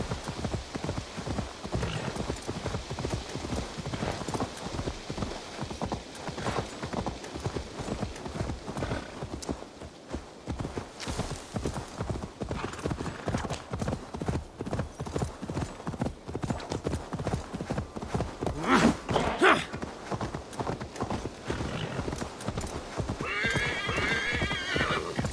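Hooves pound in a fast, steady gallop as a horse runs in the video game Assassin's Creed Valhalla, loud and close, with a whinny rising near the end and no talking.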